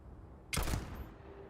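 A short burst of gunfire from a video game, one sharp crackling volley that rises from a quiet background and fades quickly, fairly faint overall.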